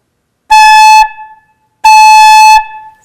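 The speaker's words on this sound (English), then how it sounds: "just try and master getting a good sound on just your head joint" Two clean flute head joint notes, each with a crisp tongued attack and a clear stop, the first about half a second long and the second a bit longer, bright and loud, with a brief decay after each.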